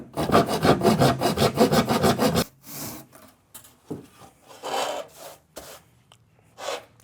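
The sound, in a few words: pruning saw cutting a joint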